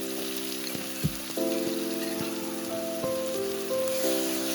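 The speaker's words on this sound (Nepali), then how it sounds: "अब तेल तातेपछि म यसमा प्याज राख्दैछु" Onions fry in hot oil for a Nepali-style maas dal, a steady close hiss and sizzle with a few knocks of a utensil and a faint tonal hum in the background.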